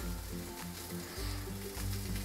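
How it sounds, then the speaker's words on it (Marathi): Garlic fries in a pan for a spicy Maharashtrian lasun fry, giving a steady close crackling sizzle with soft stirring scrapes throughout. "आता हा अजून भाजतोय बघा लसूण।"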